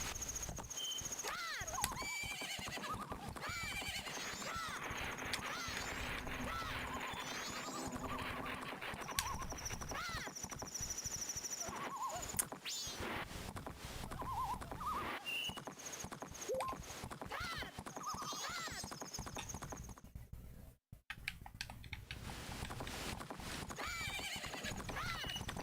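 A horse in the video game Majora's Mask neighs and whinnies while its hooves clip-clop in a steady rhythm, with game sound effects and a faint background voice mixed in throughout.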